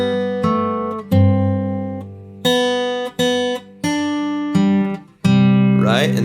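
Finger-style acoustic guitar plays a slow hymn passage, a series of plucked chords that ring out and decay one after another, close and clear with no voice over them.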